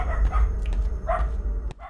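A dog barks a few times in the video game Down Under, short muffled yips over a low rumbling game ambience, fairly faint and unaccompanied by talk.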